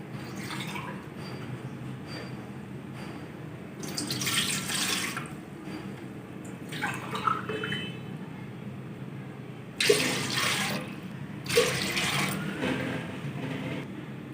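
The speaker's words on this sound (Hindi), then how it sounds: "पानी डालेंगे 3 गिलास।" Three glasses of water splash and pour into a cooking pot on a stove in several separate bursts, close by, with a steady low hum between pours.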